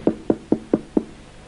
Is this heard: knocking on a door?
yes